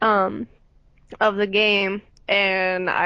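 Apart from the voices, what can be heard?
No distinct noise like a dog, phone or traffic.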